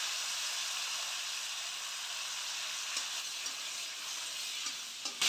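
Cashews and raisins fry in a pan for pulao, giving a steady, close sizzle and hiss with occasional faint stirring taps and no talking.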